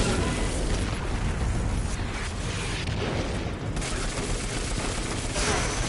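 A grenade exploding in Destiny 2 amid gunfire, a sustained loud wash of blasts, booms and crackling shots running throughout without a break.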